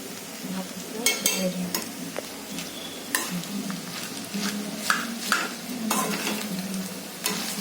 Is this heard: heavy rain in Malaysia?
no